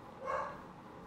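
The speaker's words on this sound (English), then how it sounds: "excuse my dog" A single dog gives one short, muffled bark that rises briefly above a quiet indoor background.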